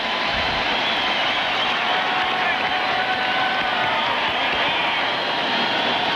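A packed baseball stadium crowd at a Cubs–Cardinals game roars in a sustained, loud wash of cheering that holds for several seconds, with no clear break.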